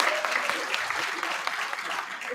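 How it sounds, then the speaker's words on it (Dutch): An audience applauds in a steady, fairly close wash of clapping that holds evenly for a couple of seconds. "Een applaus voor Shermalien."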